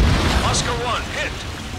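In the combat flight game Ace Combat 7, a missile strikes an aircraft and sets off a loud, rumbling explosion that fills the whole moment, with a voice speaking over it.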